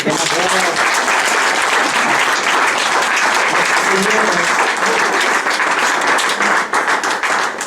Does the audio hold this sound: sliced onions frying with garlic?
no